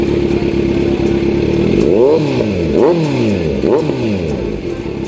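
A Kawasaki Z900 motorcycle with an aftermarket exhaust idles with a deep, throaty rumble, then revs up sharply three times, each rev rising and falling with a loud, raspy exhaust note.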